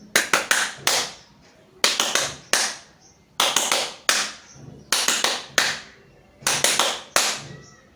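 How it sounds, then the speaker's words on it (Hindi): Hands clapping in prayer position during a yoga exercise, sharp claps in repeated quick groups of three or four with short pauses between groups, close and loud. "मित्रों 15 बार आप इस ताली को बजाएंगे।"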